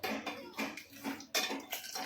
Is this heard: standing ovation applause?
no